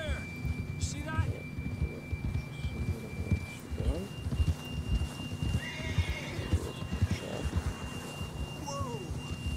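A horse in Red Dead Redemption 2 whinnies and snorts over a steady rhythm of clip-clopping hooves at close range, with a voice talking over the riding and a thin sustained tone running through the background.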